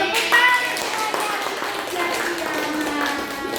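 A class of schoolchildren claps hands together in a classroom, a busy, fairly loud patter of clapping mixed with children's voices, lasting a few seconds.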